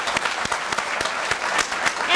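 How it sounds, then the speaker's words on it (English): Dense, even applause from a commencement audience celebrating economics PhD graduates, a continuous wash of many hands clapping at close range. "Let's give them another round of applause."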